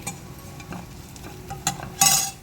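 Coriander, cumin and pepper powder dry-roasting in a pan for a Telangana-style taro curry, with soft scraping stirs and a faint sizzle, ending in a brighter clattering scrape near the end.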